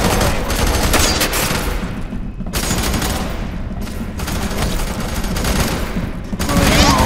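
Rapid bursts of automatic gunfire in the video game FEAR 3, loud and nearly continuous, with a few brief pauses between volleys during a heavy firefight.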